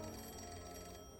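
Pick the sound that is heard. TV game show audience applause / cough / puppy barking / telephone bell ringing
telephone bell ringing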